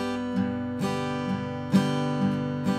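Acoustic guitar playing a boom-chuck rhythm, a low bass-string note alternating with a bright treble strum, steady and close with ringing sustained chords, no voices.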